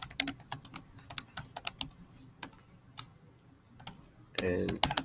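Typing on a computer keyboard, close crisp key clicks in quick irregular runs with short pauses, ending in a brief murmur of talk.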